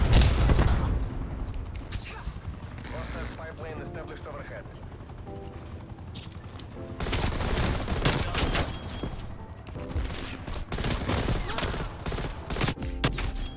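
Bursts of rapid gunfire and booms from Call of Duty Cold War multiplayer come in irregular volleys over a helicopter's drone, loud and busy, with a player talking over the action.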